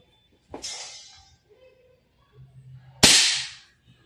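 A VFC BCM MCMR MK2 14.5-inch full-metal gas blowback airsoft rifle fires two sharp, loud cracks a few seconds apart, each with a brief hiss trailing off, heard alone and close.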